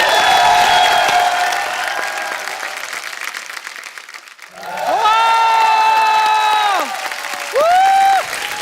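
A studio audience at The Kapil Sharma Show gives loud applause and cheers for a playback singer. The clapping fades midway and is followed by sustained, held musical tones.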